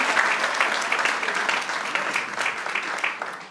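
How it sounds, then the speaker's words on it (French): A church congregation applauding for Jesus during a sermon: a full, close crowd clapping continuously and fading slightly toward the end. "Est-ce qu'on peut acclamer pour Jésus?"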